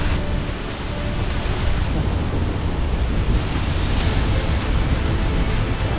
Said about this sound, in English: Getting closer to the waterfall now.